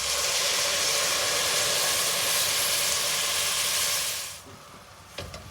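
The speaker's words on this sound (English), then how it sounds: "your wine to deglaze the pan because it's sticking" Wine hits a hot pan on high heat to deglaze stuck bits for a bolognese sauce, producing a loud, sustained steamy hiss for about four seconds before it abruptly drops to a quiet simmer with a couple of small clicks.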